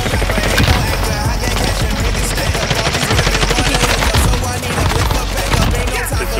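Loud, rapid pistol fire in a video game, dense rattling shots packed together in a continuous burst over constant game noise.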